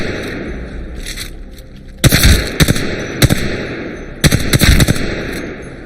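Automatic weapon fire from aim practice in the shooter game Apex Legends, loud rapid bursts of shots, one short volley early on, then several bursts separated by brief gaps.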